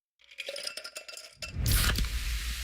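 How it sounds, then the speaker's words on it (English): Pepsi Zero Sugar cola poured into a glass: a few bright clinks of ice and glass, then a loud, close fizzing pour that builds and carries on to the end. "You hear that? That's the sound of Pepsi Zero Sugar."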